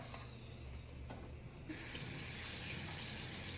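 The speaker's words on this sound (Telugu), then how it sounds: "ఇప్పుడు ఈ వాటర్ అంతా స్ట్రెయిన్ అయ్యేదాకా గిన్నె పెట్టేసి కింద ఇట్లా పెడతాను వాలుగా" Water drains steadily out of a tilted cooking pot as it is strained in a home kitchen, a soft continuous splashing that grows louder and brighter partway through.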